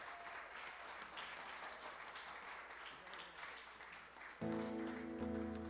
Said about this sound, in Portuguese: vamos aplaudir Jesus por eles